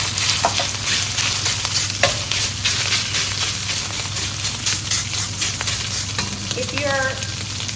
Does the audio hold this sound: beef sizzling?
yes